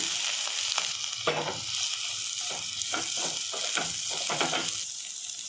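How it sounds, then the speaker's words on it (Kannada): Ingredients for kabuli kurma fry in a pan with a steady background sizzle, broken by a run of repeated scraping, clacking stirs of a spoon against the pan, all close and with no talk. "ಇದನ್ನೆಲ್ಲ ಹಾಕಿ ಒಂದು ಸ್ವಲ್ಪ ಹೊತ್ತು ಫ್ರೈ ಮಾಡ್ಕೋಬೇಕು"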